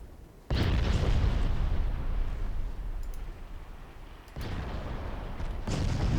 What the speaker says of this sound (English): Maybe I can hit the enemy cruiser with my torpedoes